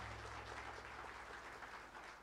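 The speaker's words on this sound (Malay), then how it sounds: "saya kira kita berilah satu lagi tepukan kuat kepada Tok Ma'e" Steady, dense audience applause fills the hall at a Malaysian housing and local government ministry (KPKT) ceremony in 2022, holding at an even level throughout with no voices over it.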